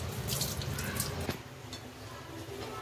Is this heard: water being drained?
yes